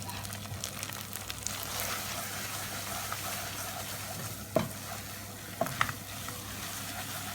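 Sweet vermicelli balaleet with scrambled egg being stirred in a hot pan, a continuous soft sizzle with a few sharper scrapes and clicks of the spoon against the pan, no talking.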